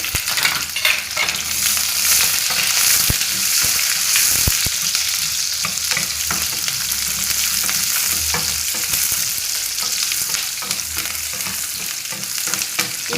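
Mustard seeds, cumin, curry leaves, dried red chilies and onion fry in a pan for palak paneer, a loud steady sizzle close up with scraping stirs throughout and no speech.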